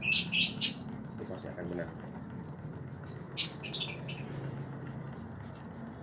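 A green leafbird (cucak ijo) from Jember, East Java, sings in repeated bright, sharp chirping phrases close by, with someone talking quietly underneath.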